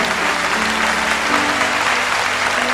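Church congregation applauding harder during a sermon, a loud, dense and sustained wall of clapping that fills the space evenly from start to finish.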